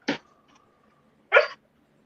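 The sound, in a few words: dog barking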